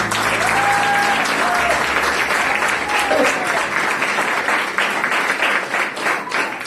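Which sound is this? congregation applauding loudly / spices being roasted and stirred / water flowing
congregation applauding loudly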